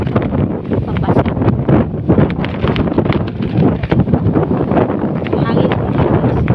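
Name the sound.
wind blowing outdoors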